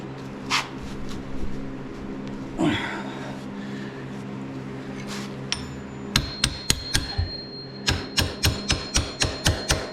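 Repeated hammer blows drive Tusk hard-mount foot pegs onto a 2022 Kawasaki KLR650, with scattered knocks early on, then a steady run of about a dozen sharp, close metallic strikes in the final seconds.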